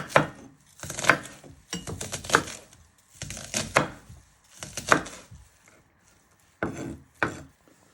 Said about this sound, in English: Then turn it around and then just chop them into little pieces.